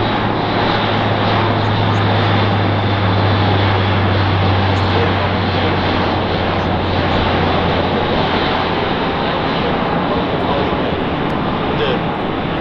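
German military transport airplane droning low and loud overhead during a mass parachute drop at an airborne commemoration, a steady continuous engine roar filling the whole stretch.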